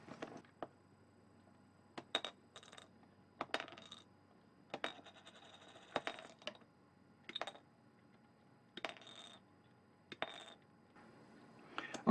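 Hand clippers snip plastic miniature bases for Bolt Action US paratroopers from the sprue, giving sharp isolated clicks spaced a second or two apart, close and fairly quiet with no talking.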